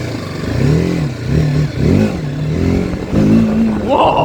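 A TVS Apache RTR 310 motorcycle accelerates hard, its engine rising and falling through four loud, close throttle surges with brief dips in between.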